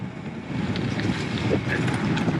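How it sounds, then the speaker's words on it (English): Steady, loud wind rushing across the microphone while cycling down an off-road descent on a breezy moorland plateau under low cloud, a continuous roar with no speech. "we're just under the lid of the cloud cover as well, so quite breezy though"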